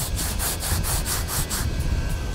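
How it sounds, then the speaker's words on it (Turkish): Wet sanding of a boat hull on land with waterproof sandpaper, a steady rhythmic back-and-forth rasp of even strokes, close and continuous with no talk. "sulu zımparayla komple alanın zımparalanması"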